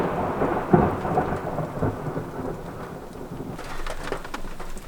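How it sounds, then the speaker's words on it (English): Thunder rumbles in the background during a summer storm while rain patters steadily on a van's surface, with a dense hiss throughout and a brief louder crack early on. "You can hear thunder in the background"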